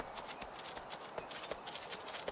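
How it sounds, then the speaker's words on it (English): Steady rhythmic clip-clop of hooves on hard ground at a walking pace in the video game Way of the Hunter 2, one animal horseshoed, fairly faint with a hollow, game-like quality. "Do they still sound like a horse walking down the street?"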